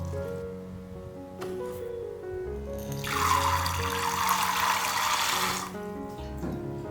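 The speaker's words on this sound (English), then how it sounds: "In a medium saucepan, combine the rinsed lentils in 3 cups of water." Water pours from a tap into a medium saucepan of rinsed brown lentils, a bright splashing stream for a few seconds that then stops, over faint background music.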